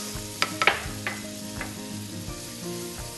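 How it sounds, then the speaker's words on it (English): Macadamia nuts sizzle in a little butter in a pan, with a soft steady hiss and a few sharp clinks and taps from stirring near the start, no voices. "So, just a little bit of butter. Throw in our macadamia nuts."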